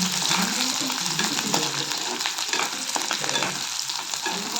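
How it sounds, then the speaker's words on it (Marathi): Onions fry in a pan until reddish-brown, giving a dense, continuous crackling sizzle up close with faint stirring scrapes and no break in the sound. "आता आपण असं मस्त कांदा लाल करून घ्यायचा"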